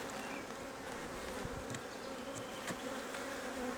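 Honey bees swarm around an opened hive during an inspection, giving a dense, steady buzzing drone close to the microphone with no talk.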